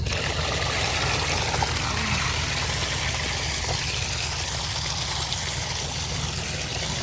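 Water pouring from a barrel into a newly built backyard water feature, a continuous close gushing and splashing at steady volume, with faint voices now and then underneath.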